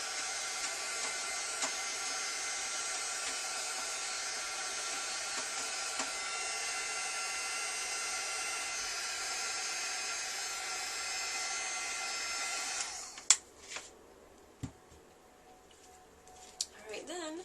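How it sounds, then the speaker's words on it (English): A heat tool blows steadily for about thirteen seconds, a loud even whooshing hum as it dries paint on a stamped image, then cuts off, leaving quiet handling and light tapping. "I'm just going to use my heat tool to try to dry that a little quicker."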